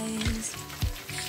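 Chicken and potato cheesy snacks sizzle in hot oil over a medium gas flame, a steady close frying hiss with a couple of soft bubbling bursts.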